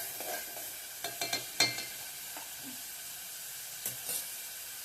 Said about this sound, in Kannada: ಆಮೇಲೆ ಇದಕ್ಕೆ ನೋಡ್ರಿ ಅದು ಫ್ರೈ ಆಗತ್ತೈತಿ ಎಣ್ಣೆಗ